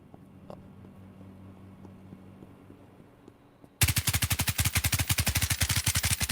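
After a quiet stretch of faint ticking, rapid automatic gunfire from a video game in development erupts loudly and keeps hammering in an even, fast rhythm to the end.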